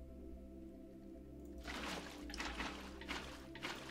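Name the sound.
filling cauldrons with water in Minecraft (video game)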